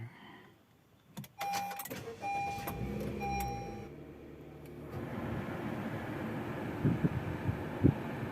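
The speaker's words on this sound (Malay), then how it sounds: "startkan enjin." A Honda BR-V engine is started for an air-conditioning test: a sharp click and a few short dashboard chimes, then the engine catches and settles into a steady, close idle rumble.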